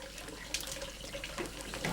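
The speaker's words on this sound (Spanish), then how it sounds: "El líquido de los capachos empapados sale despedido al someterlo a la fuerza de la prensa." A mix of olive oil and water streams out of soaked esparto mats squeezed in a traditional animal-powered family mill press, giving a steady trickling, splashing flow with small drips and no voices.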